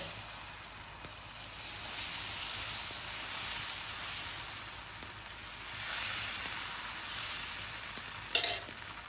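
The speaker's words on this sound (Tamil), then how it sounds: "அடுப்பில் தோசைக்கல் போட்டிருக்கேன், சூடாகிடுச்சு. நம்ம இப்போ வந்து அடை இன்னைக்கு ஊற்றிடலாம்" Adai batter sizzling on a hot dosa griddle, a steady close hiss that swells and eases in waves, with a brief clatter near the end.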